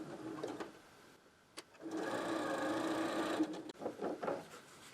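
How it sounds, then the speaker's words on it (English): A sewing machine stitches quilt block pieces a quarter inch from a drawn line, running in steady, close-up bursts with brief pauses between them. "we're going to sew a 1/4 inch away from the line on each one of these"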